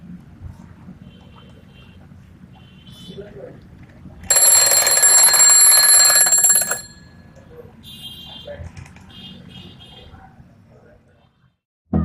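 An efinito steel twin bell alarm clock rings in a loud, bright, metallic burst lasting about two seconds, then stops and leaves quiet room tone with faint clicks and handling noise.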